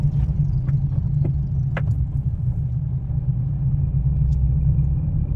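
Car engine running while driving on a road during a gear change, a low steady rumble from inside the cabin with faint clicks, moderately loud and continuous, no voices.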